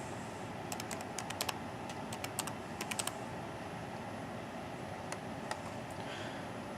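Keystrokes on a computer keyboard as a password is typed, several quick bursts of soft clicks, then a pause and a few more isolated taps over quiet room noise.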